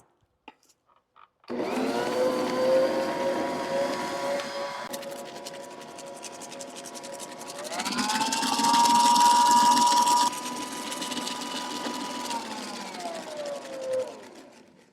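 An electric mixer beats butter and brown sugar for cookie dough, a loud continuous motor whine that starts suddenly, jumps to a higher, louder speed for a few seconds, then drops back and slows toward the end.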